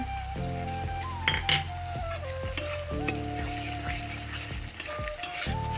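Spices sautéing with coriander and cumin powder for a green banana kofta curry, a close sizzling fry broken by repeated scraping stirs and the clink of a spoon against the pot.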